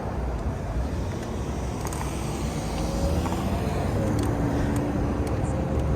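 Road traffic passing while riding an ebike near University Avenue, a continuous loud rumble of cars and engines with passing vehicle swells, no talking.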